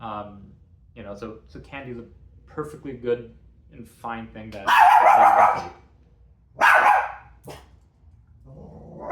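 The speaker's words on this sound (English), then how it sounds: "That's my dog." A pet dog barks twice in loud, close bursts in the middle of a home setting, while a person talks steadily before and after the barks.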